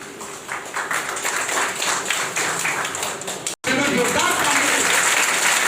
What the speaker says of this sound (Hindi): मैं जानता हूँ कि हमारी तालियां सीधे दिल से बज रही हैं।